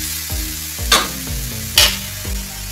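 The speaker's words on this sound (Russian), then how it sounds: "Обжариваем, покуда не размякнут. Помешиваем, чтобы не пригорело." Carrots and beets fry in a pan for lenten borscht, a soft sizzle broken by a spoon stirring and scraping, with a few louder clacks against the pan.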